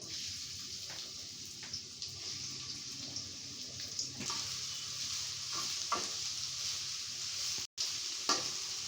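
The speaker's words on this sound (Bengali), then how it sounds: "পেঁয়াজটি ভালো মতো ভেজে নেব যে পর্যন্ত লালচে রং না হয়" Onions fry in oil with cinnamon for chicken biryani, making a soft, continuous sizzle with occasional stirring scrapes and light knocks in a quiet kitchen, with a brief dropout near the end.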